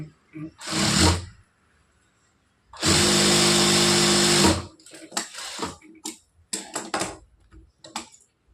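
A sewing machine top-stitches a blouse hook strip in two runs, a short burst and then a longer steady whirring stretch, close and loud, followed by scattered clicks and handling noises.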